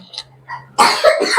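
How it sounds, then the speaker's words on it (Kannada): A single close, loud cough bursts out after a moment of faint background sounds, rasping briefly before trailing off. "ಕೆಮ್ಮು"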